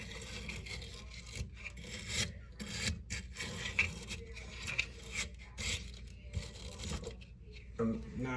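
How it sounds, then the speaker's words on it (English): Wire brush scrubbing at a bathtub drain fitting over a fiberglass tub floor, scraping off old Teflon tape in an uneven run of close, rasping strokes with brief pauses between them. "let me hit this a little with a wire brush"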